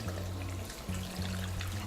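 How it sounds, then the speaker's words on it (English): Hot water runs steadily as hair is rinsed at a natural-hair salon in Kampala, with a continuous spray and a brief dip midway. "We wash with hot water first so that the dirt and all the accumulated"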